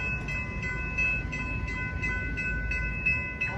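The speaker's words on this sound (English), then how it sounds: "BNSF train number 1211 to Aurora is now arriving." A BNSF commuter train pulls into Downers Grove station with a continuous low rumble and faint tonal squeals, heard steadily at moderate distance.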